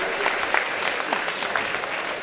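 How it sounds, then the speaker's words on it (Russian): An audience gives sustained applause at a presentation, a dense spread of many hands clapping at moderate volume with a few sharper claps standing out and faint voices underneath. "Поэтому под ваши аплодисменты ему наш замечательный подарок."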